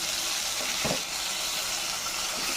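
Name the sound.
tomatoes added to frying onions and curry leaves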